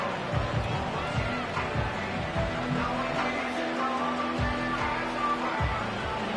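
A stadium crowd in a Madden American football video game roars as a dense, constant wash of cheering and noise, loud and unbroken, with no clear voices standing out.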